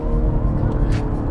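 A 2020 BMW M340i xDrive accelerating hard in sport mode, its engine note a thick, steady roar with loud low-end rumble and a brief burst of higher hiss near the end.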